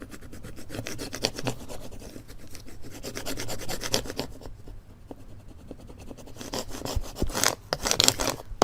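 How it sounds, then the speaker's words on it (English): Cricut vinyl is burnished onto a wooden sign, giving close, repeated scraping and rubbing strokes in an uneven rhythm, with a few louder scuffs near the end. "now what I need to do is burnish this down really well"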